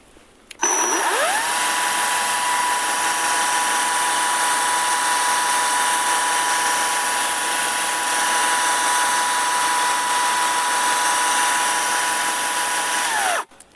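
A Procraft PKA48Li brushless cordless chainsaw on a single 40-volt battery runs up almost at once to a steady, loud, high-pitched whine, holds it evenly for about thirteen seconds and then cuts off abruptly.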